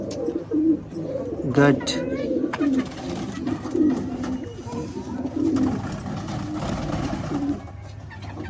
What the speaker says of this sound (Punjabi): ਜਿਤਨੇ ਵੀ ਆ ਕਬੂਤਰ ਵਿੱਚ ਤੁਹਾਨੂੰ ਨਜ਼ਰ ਆ ਰਹੇ ਨੇ